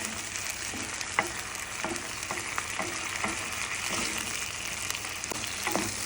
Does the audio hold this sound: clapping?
no